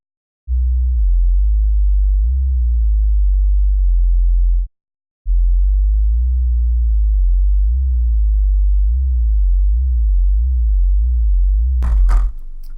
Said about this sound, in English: we got a clean sound wave